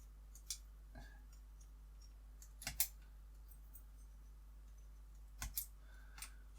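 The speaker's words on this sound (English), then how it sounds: "I'm going to cut these two parts off of this sprue" Sprue cutters snip small plastic model-kit parts off their sprue, a few quiet sharp clicks spaced apart over faint background hum, close and alone.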